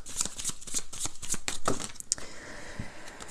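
Tarot cards being shuffled by hand, a run of quick crisp riffling slaps close up, repeated several times in rhythm before trailing off into a few soft rustles.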